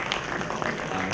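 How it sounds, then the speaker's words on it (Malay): Steady applause from an audience at a university innovation and intellectual property award ceremony, a dense even patter of many hands clapping throughout, moderately loud and without speech. "Kita berikan tepukan yang gemuruh pada mereka semua"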